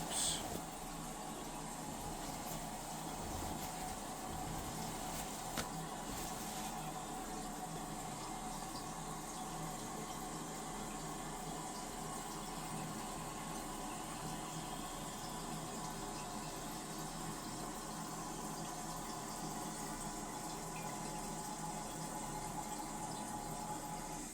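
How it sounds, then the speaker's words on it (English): A household toilet refills after flushing, with a steady, faint hiss and trickle of water running into the tank that continues evenly for a long stretch without pause. "Flush it a few more times, test it out."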